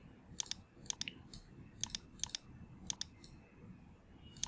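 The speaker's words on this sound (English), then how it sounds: "So I'm going to click on bold." Computer mouse clicking while formatting text to bold in a book landing page editor: sharp, crisp clicks in scattered pairs and singles over a low background hum, close and fairly quiet, no voices.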